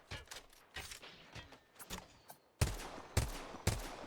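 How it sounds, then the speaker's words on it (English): Gunfire from a rifle set to double-tap in a competitive online shooter match, several quick paired shots and bursts, the last few louder and more spaced, close and sharp with no talk. "Not quite hitting those shots here with the double tap."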